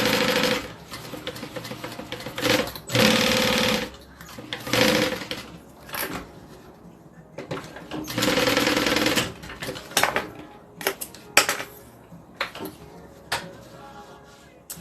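Sewing machine stitching and quilting a fabric notebook holder, running in repeated bursts of rapid close whirring separated by pauses, clicks and fabric handling.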